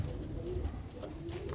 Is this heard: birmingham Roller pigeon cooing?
yes